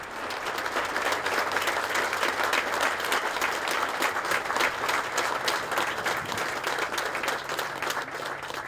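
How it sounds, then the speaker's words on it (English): Sustained applause from a large crowd at a Congressional Gold Medal ceremony for the Montford Point Marines, a dense even clatter of many hands clapping that continues steadily throughout. "let's give them another round of applause."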